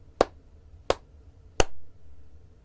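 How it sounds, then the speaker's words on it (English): Three sharp hand claps, evenly spaced about two-thirds of a second apart, crisp and close in a quiet room, followed by a faint low hum. "Clap again."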